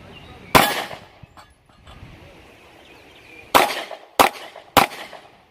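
Pistol gunshots at an outdoor IDPA match, one sharp report followed by a pause and then three more quick cracks, loud and close with faint background noise between.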